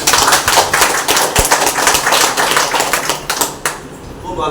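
Audience clapping at a business development training session, a dense loud burst of many hands with sharp irregular slaps, tapering off toward the end.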